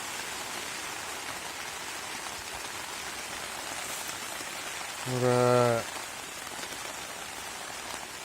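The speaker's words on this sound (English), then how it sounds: "I knew it was going to rain, but it's just hammering down" Heavy rain patters densely and steadily on a Fjallraven Akka Endurance 2 tent close by, with a short spoken word partway through.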